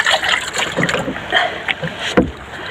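Small boat being paddled home across water with a strong current, irregular splashing paddle strokes and faint wind noise, close to the microphone with no talk.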